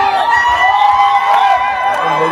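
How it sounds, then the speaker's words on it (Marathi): Celebrating crowd at a district-level kho-kho final, cheering the victorious Armori team; a steady, loud wash of excited shouts and whoops fills the whole stretch, with voices mixed in. "बघू शकता विजयाचा किती जल्लोष साजरा झालेला आहे."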